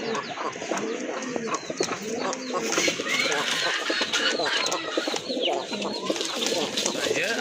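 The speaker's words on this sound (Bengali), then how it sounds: "আজকে এখানে এক জোড়া রয়েছে মাদ্রাজি গোল্লা কবুতর" A pair of large Madrasi Golla pigeons coo in low, repeated rolling calls, fairly close and steady throughout, with other birds calling around them in a busy loft setting.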